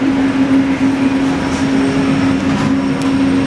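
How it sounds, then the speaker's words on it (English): Interior of the Disneyland monorail riding along with its windows open, a loud steady rumble with a sustained electric motor hum and faint rattles, with no voices. "We're on the monorail."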